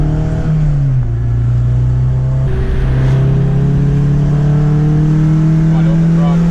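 A 2008 Honda Civic Si with a roughly 220 hp tune pulls hard at wide open throttle, its engine note climbing steadily in pitch, dropping briefly at a shift and then rising loud and close again.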